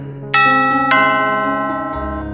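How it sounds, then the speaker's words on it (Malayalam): An electric calling bell at a home's main door chimes twice in quick succession, bright ringing tones that hang and slowly fade indoors, loud and clear with no talking. "ആ സമയത്താണ് പുറത്ത് കാളിംഗ് ബെൽ മുഴങ്ങിയത്."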